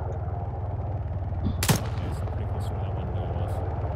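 A gunshot during an infantry field training exercise, a single sharp crack from mid-distance cutting through a steady low rumble, with quiet voices.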